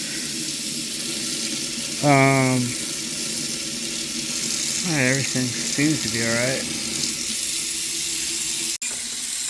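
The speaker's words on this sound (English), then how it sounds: "we're going to run the hot water a little bit" Hot water running from a newly installed faucet into a sink, a steady close rush of flow under short bursts of talking.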